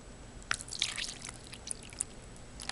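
Water trickling and dripping into a tarantula enclosure, a few faint, close drips and small splashes scattered over quiet background.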